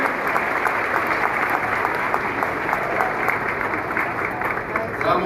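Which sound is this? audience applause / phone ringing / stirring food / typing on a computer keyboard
audience applause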